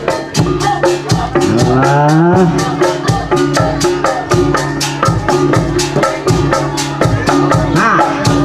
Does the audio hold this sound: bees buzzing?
no